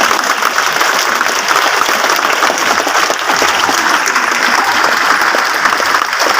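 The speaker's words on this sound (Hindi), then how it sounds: "ताली बजाओ तो ताली बजाओ" A seminar audience in Hazaribagh applauds, a dense, steady wash of many hands clapping that stays loud and continuous throughout with no talk on top.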